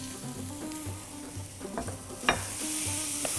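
Minced meat fries over softened onions in a pan, with a close, continuous sizzle broken by scraping stirs and a sharp utensil knock. No one speaks.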